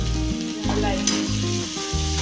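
Fresh corn chevdo stirred in a pan after cooking covered, a loud close sizzle under a steady low hum, with a brief scrape of the spoon and no speech.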